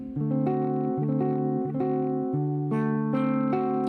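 A dominant seventh blues chord on guitar, strummed repeatedly in an even rhythm, each chord ringing out clearly with no talking.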